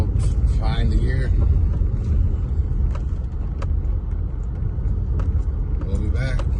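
Steady low road rumble from a car travelling a mountain road toward Tray Gap, loud and continuous throughout, with light rattles and a few brief clicks over the hum.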